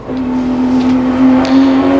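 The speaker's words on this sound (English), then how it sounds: "This is where the GT-R is so fast coming out of this corner of the cutting." A Nissan GT-R R32 race car accelerates out of a corner at Bathurst in 1991. Its steady, loud, close engine drone holds a strong tone that climbs slightly over two seconds.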